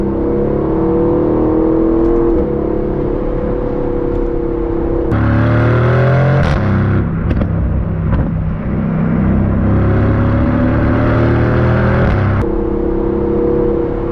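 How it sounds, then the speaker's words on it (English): An Aston Martin Vantage engine revs loudly through the gears, its pitch sweeping upward, dropping sharply at each shift and climbing again, a continuous close roar with no talk. "And then as you come down and work your way through the gears"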